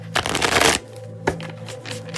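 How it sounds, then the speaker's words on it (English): A deck of tarot cards is shuffled in one long riffle burst, followed by a brief pause and softer shuffling and handling sounds, close and distinct. "Kitty, let me do an extra shuffle and then we will get you going"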